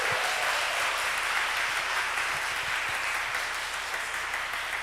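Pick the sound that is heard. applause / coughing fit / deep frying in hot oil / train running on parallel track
applause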